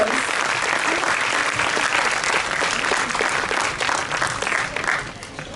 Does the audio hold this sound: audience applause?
yes